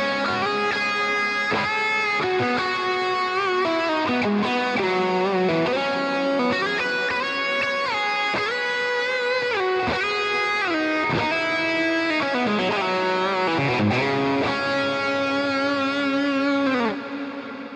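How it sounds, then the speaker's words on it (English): Electric lead guitar through an Axe FX 3 modeller with shimmer reverb, a steady wash of sustained, layered notes and melodic lines held at a constant loud level for nearly eighteen seconds, without speech. "Patch number 6 is a variation of my lead tone where I've added a type of sort of shimmer reverb to it."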